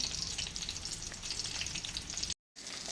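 Small native koi fish sizzling in hot oil, a close, steady frying hiss with fine crackles, briefly cut to silence near the end before resuming.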